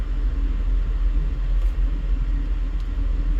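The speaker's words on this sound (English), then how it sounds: "And now we've got traffic on the other side." Road traffic on Lake Mead Boulevard in East Las Vegas makes a steady low rumble of cars rolling past nearby, heavy in the bass and continuous, with no talk.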